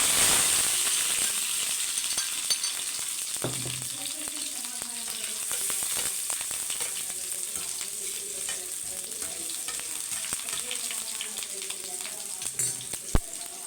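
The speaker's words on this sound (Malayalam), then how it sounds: "ചെറിയ ഉള്ളിയും കൂടി ഇടുകയാണ്." Shallots and curry leaves hitting hot oil with popped mustard seeds, a steady crackling sizzle close by, with occasional stirring scrapes and one sharp knock near the end.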